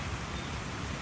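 Rain pouring down at night outdoors, a thick, unbroken wash of noise with a low rumbling undertone, steady and enveloping for the whole second, no voices.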